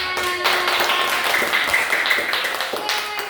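A short burst of classroom clapping during a microteaching lesson, brisk and fairly loud, with a child's and teacher's voices talking over the claps.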